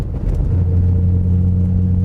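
A 1000bhp UBB Ford Mustang engine cruising in sixth gear, a steady, loud low drone with a constant hum that settles smoothly after a brief initial rise, with no talk.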